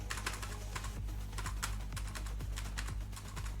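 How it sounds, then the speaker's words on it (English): Steady clicking of a computer keyboard as someone types during a Unity game-dev session, with keystrokes falling in quick, uneven runs, close and fairly quiet, and no voice over them. "There is a lot of clicking."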